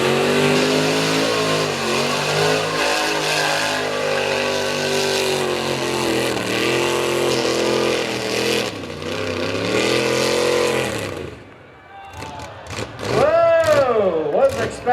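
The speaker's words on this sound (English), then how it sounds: "The truck could not, the ignition system could not get spark to the engine. You heard it sputtering there." A small-block Chevy engine in a mud bog truck revs hard and unevenly, sputtering as mud reaches the ignition and spark fails, then drops away. An announcer's voice rises over the crowd near the end.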